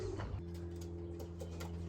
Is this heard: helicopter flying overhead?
no